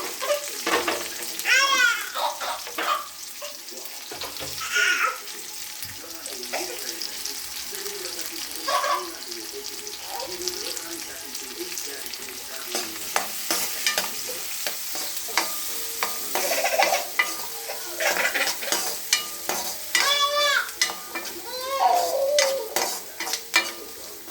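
Chopped onion and green chilli fry in a pan, with steady sizzling, scraping stirs and occasional clinks over about twenty seconds, while a voice speaks faintly in the background.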